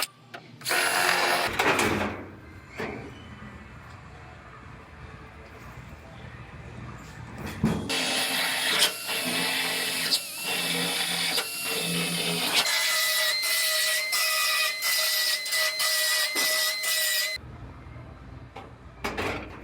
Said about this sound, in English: I'm just going to drill through this first layer of the new floor now.